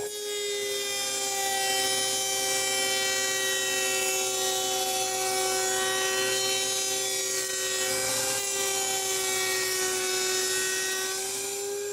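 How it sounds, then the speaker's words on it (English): Router table with a rabbeting bit cutting wood trim for kitchen cabinet doors, a loud steady high-pitched whine that holds for the whole stretch with a brief dip near the end. "set up my router table with a rabbiting bit to cut that small reveal"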